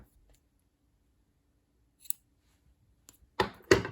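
Scissors snip crochet yarn while finishing a top-down raglan sweater: a couple of quick, soft cuts near the end of an otherwise quiet stretch.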